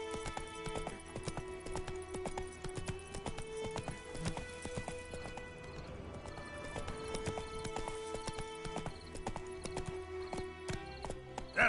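Roach the horse running in The Witcher 3 video game, continuous rhythmic clip-clop of hooves at a steady gallop with an occasional whinny, layered over background game music.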